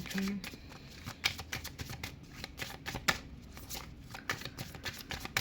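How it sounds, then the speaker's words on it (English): Tarot cards are shuffled by hand in a steady run of crisp riffling and slapping sounds, close and fairly loud throughout, with a faint low murmur beneath. "I will just first pull out the cards beforehand, and then I will start the reading."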